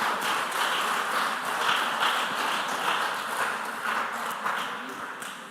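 An audience claps for a quiz team at a junior high school semi-final, the sound a dense, steady wash of many hands that holds at an even level throughout.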